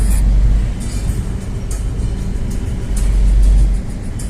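A wagon rolls along the road with the rumble heard from inside, a loud, steady low engine and road drone with a faint rattling texture and brief swells in intensity, no talking.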